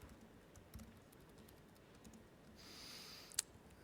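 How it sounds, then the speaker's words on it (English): Light tapping on a computer keyboard during a live coding talk comes as soft, irregular clicks against a quiet hall, with a faint rustle near the end. "Sorry, my typing is a bit fidgety."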